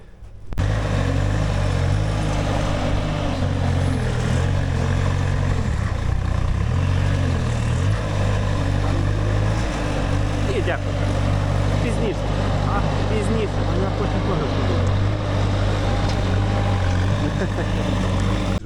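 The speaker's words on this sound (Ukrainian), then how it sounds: "поки бобкат працює" A tracked Bobcat skid steer loader levels pond banks in -5 degree cold, its engine a steady, loud, low drone that holds throughout while someone talks over it.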